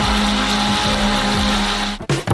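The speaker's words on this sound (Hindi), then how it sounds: "हम इसे एक ब्लेंडर के साथ अच्छी तरह से बीट करेंगे।" A blender whirs steadily and loudly as it beats thawed strawberries with sugar, a constant motor drone that cuts off abruptly near the end.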